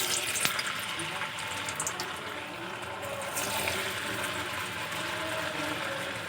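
A potato and wheat-flour snack fries in very hot oil in a wok, giving a continuous close, fairly soft bubbling sizzle with occasional crackles and no talking.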